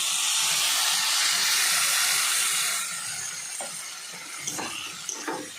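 A small amount of water is poured into a pan of frying banana flower curry with potatoes, setting off a loud sizzling hiss that fades to a quieter bubbling, with a few soft clinks toward the end.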